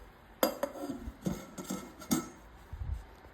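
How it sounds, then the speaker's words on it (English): Hard plastic lid set onto a water filter housing: several sharp clicks and knocks spaced out over a few seconds, close and fairly quiet. "We're gonna put on the lid."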